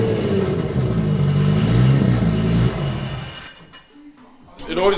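A Nissan Silvia S15 drift car engine running lumpy on a cold start, a loud uneven idle that drops away, then a brief rev at the end, with people talking nearby.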